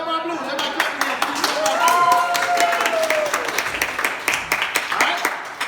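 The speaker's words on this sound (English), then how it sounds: "Everybody clap for that." Scattered clapping from a lunch-and-learn audience after a 12-bar blues demonstration, sharp uneven claps sounding close under voices and a sliding vocal tone.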